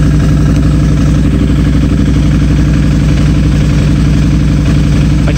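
Can-Am Renegade 500 ATV engine idling, a loud, close, steady low-pitched rumble with an even pulsing rhythm and no rise or fall.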